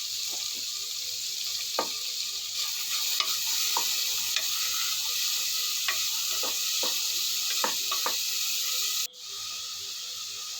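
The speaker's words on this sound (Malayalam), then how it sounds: "നെയ്യ് ഒഴിച്ചു, ഉള്ളിട്ടു. ഉള്ളി നന്നായിട്ടൊന്ന് വഴന്ന് വരട്ടെ." Sliced onions fry in ghee for chicken biryani, a steady close sizzle and hiss broken by sharp scrapes and taps of a spoon stirring the pan, ending in a sudden clatter; no talking.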